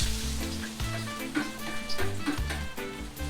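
Garlic sizzles and crackles steadily in a hot frying pan, a close, continuous hiss with small pops, heard alone without any talking.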